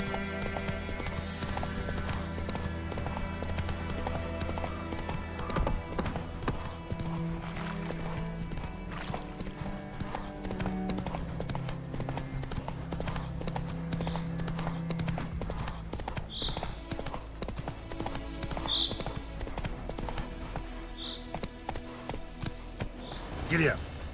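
Horse hooves clip-clopping in The Witcher 3: Wild Hunt, a steady trotting rhythm of hoofbeats running throughout under game music, with a spoken line from a character.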